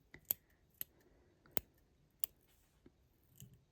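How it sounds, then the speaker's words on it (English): Small scissors trim fluffy dubbing on a Chubby Chernobyl fly at a fly-tying vise, making about six crisp, separate snips spaced unevenly across a quiet room, close up and with no talk. "you can lift up your legs and trim your dubbing"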